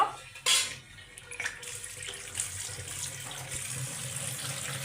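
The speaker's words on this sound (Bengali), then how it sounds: "আমি কিন্তু একটু ঠান্ডা পানি দিয়ে ধুয়ে নিলাম" Cold tap water runs over freshly boiled pasta and noodles in a sink to rinse them, a steady continuous splashing flow with a brief louder gush near the start.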